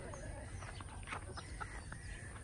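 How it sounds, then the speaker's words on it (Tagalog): Chickens on a rural farm trail after a person who is about to feed them, giving soft scattered clucks and rooster-like calls over a steady outdoor background, with faint talking nearby. "sumusunod yung manok po kang Papa Joseph"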